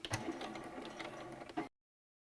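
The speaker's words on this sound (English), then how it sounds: "now over the sewing machine, we are gonna sew down both sides with 1/4 inch seam allowance" A sewing machine stitches down the side seams of a fabric tote bag with a quarter-inch seam allowance, a busy mechanical whir with a few clicks, close and moderately quiet, stopping abruptly.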